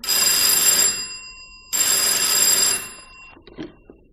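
Old telephone bell rings twice in long bright metallic bursts with a pause between, loud and close, followed by faint handling clatter as the receiver is picked up.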